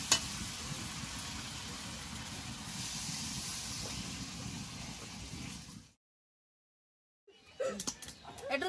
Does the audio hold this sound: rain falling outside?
no